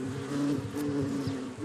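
A honeybee on its final approach to land at the hive gives off a steady, close droning buzz that holds its pitch with slight wavering for under two seconds.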